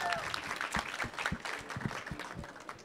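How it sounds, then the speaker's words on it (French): A live podcast show audience breaks into a short, moderately distant burst of applause, clapping that fades slightly over a few seconds. "Est-ce qu'on peut applaudir Mathilde, s'il vous plaît, de nouveau?"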